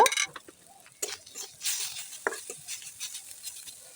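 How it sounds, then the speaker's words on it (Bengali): Ground spices, cumin paste, coriander powder, chaat masala and garam masala, being stirred together in a bowl for fish fingers, with soft scraping swishes and a few sharper clinks of a spoon, close and fairly quiet. "এখন আমি আবার সবগুলো উপকরণকে ভালোভাবে করে নেড়েচেড়ে মিশিয়ে নিব"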